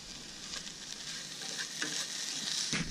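Hash browns and polska kielbasa frying for a camp breakfast, a steady close sizzle with soft stirring scrapes throughout, growing slightly louder toward the end.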